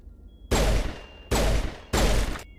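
Three loud, close gunshots from a weapon in a video game, evenly spaced with a short ringing tail after each, with no talk over them.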